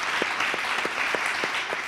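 Moderately faint applause from a small audience at an interview event, a continuous wash of clapping with a few sharper, regularly spaced claps standing out.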